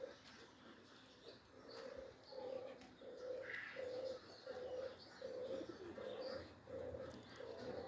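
Pigeons coo in a steady repeating rhythm, soft and nearby, with occasional chirps from other birds over quiet outdoor background.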